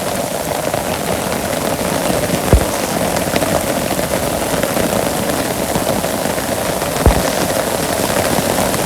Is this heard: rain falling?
yes